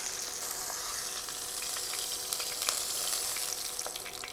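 Pork chops frying in a pan, a steady close sizzle with scattered sharp pops and crackles, fairly quiet, no talking.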